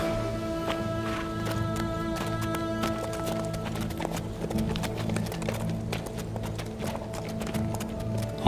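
Horses' hooves clip-clop in a steady, uneven patter of sharp knocks over a low droning background, with several animals moving close by and no talk over them.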